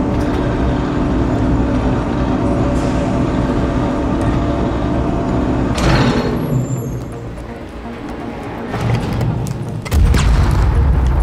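A napalm explosion in The Division detonates as a loud, dense boom over continuous low rumble, with a sharp burst near the middle and another heavy surge near the end, no voices.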